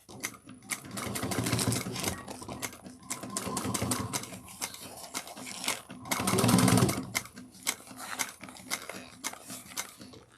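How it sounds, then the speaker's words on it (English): A sewing machine runs a quarter-inch seam along joined fabric edges in bursts of rapid stitching, pausing and restarting, with a louder, fuller run near the end. "So I'm going to sew this at 1/4 of an inch."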